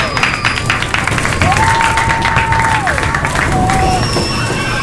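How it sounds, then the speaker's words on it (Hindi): A Holi celebration crowd breaks into loud applause and cheering, dense and sustained throughout, with shouts and a wavering whistle-like tone rising over the clapping. "जोरदार तालियां हो जाए"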